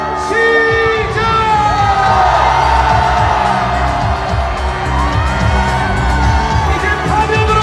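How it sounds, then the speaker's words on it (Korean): A large crowd at a victory rally after the court ruling removing Yoon Suk-yeol from office in 2025 roars and cheers continuously, with whoops and shouting layered over a dense, loud wall of voices. "함성"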